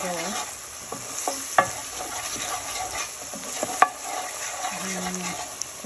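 Spice paste stirred and fried in a pan for a dish of hilsa fish with mustard and dried gajar fish with potato, giving a steady close sizzle with scraping spoon strokes and a couple of sharp clinks against the pan.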